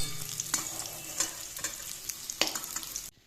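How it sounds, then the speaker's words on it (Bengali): Potatoes fry in hot oil for a mutton kosha dish, a close, continuous sizzle broken by repeated scraping stirs of a spatula against the pan before the sound cuts off abruptly. "আলুগুলো এবার ভাজা ভাজা হয়ে গেছে।"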